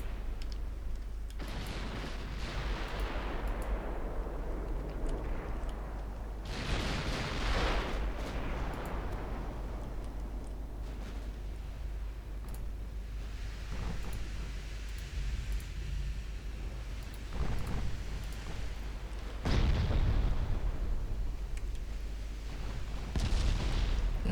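Heavy naval guns fire armor-piercing shells in a warship battle in Ultimate Admiral Dreadnoughts, with loud booming salvos recurring irregularly over a continuous low rumble, some blasts closer and sharper than others.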